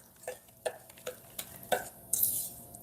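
Breadcrumb-substitute ingredients for a keto roasted rack of pork are stirred together in a bowl, with soft, evenly spaced scraping strokes, close but quiet, and no talking.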